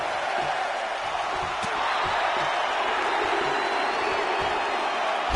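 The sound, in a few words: crowd cheering in WWE 2K17 video game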